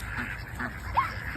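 Ducks at a park give a single short quack, near and moderately loud, under a person's voice and outdoor background noise.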